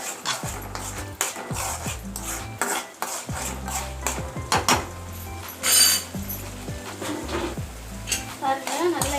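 Small onions hit hot oil in a pan, giving a busy crackling sizzle broken up by repeated clinks and scrapes of a metal spoon against the vessel, up close.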